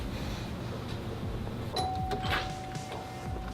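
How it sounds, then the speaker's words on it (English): A house doorbell gives a single faint electronic chime at a party, heard against a low background murmur. "Did I hear a doorbell?"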